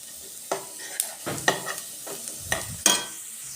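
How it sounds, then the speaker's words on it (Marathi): Cumin seeds and garlic frying in a pan for sweet corn chaat, the garlic turning golden, a quiet sizzle broken by a handful of sharp stirring scrapes and clinks at uneven intervals, heard up close without talk. "जिरं पण छान फुलतं आहे आणि लसूण पण छान असे तांबूस होते"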